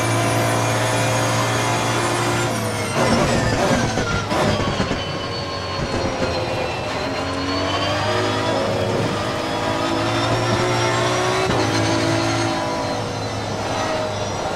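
An Aston Martin V12 GT3 race car roars at Barcelona in Assetto Corsa Competizione, a loud, sustained high-revving V12 whine that rises through the gears with brief shift dips, close and steady throughout.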